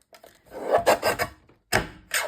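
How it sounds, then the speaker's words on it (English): A paper trimmer slicing through a stack of tickets and envelopes, giving several quick close rasping strokes in two short bursts separated by a brief pause. "I'm just going to put the whole lot again into the trimmer."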